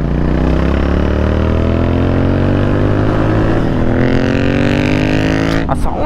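A Royal Enfield GT650 twin-cylinder motorcycle engine and exhaust roar loud and close, revving steadily with rising pitch, then shifting and dropping off briefly near the end.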